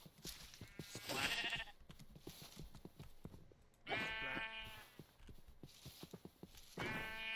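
Sheep bleat in a zombie survival video game, with several wavering bleats coming at intervals, fairly close, amid scattered footsteps and faint game sounds.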